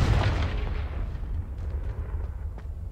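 A Confringo blasting spell in Hogwarts Legacy goes off with a loud explosive burst that rolls away into a fading, rumbling tail, alone and fairly close.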